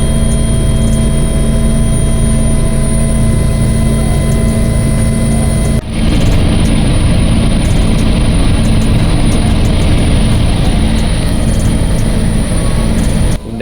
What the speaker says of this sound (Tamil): இந்த ஹெலிகாப்டர் அணினிலேருந்து மேலே தூக்கிட்டு தான் பார்ப்பேன்